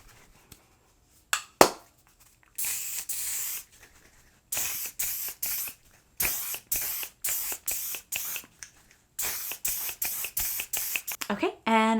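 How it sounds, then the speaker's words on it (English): Setting spray misted onto a face in repeated short bursty hisses, several quick pumps in clusters with brief pauses between, close and crisp, ending in a rattling rustle. "I'm gonna spray my face once more"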